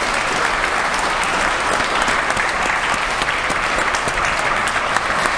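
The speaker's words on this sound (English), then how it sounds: "a big round of applause to all those people I mentioned, including you" Sustained applause from students at a fall school athletic assembly, a dense steady wash of many hands clapping together at close range, with no one talking over it.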